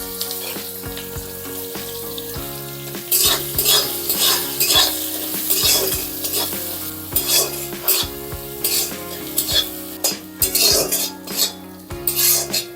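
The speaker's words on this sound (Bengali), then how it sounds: "ফোড়নের জন্য আমি কিছুটা পেঁয়াজ ভেজে নিচ্ছি" Onion frying in oil with cloves, cinnamon and cardamom in a pan, stirred with a utensil, giving repeated clinks and scrapes over a steady sizzle, loud and close, with a tonal hum underneath.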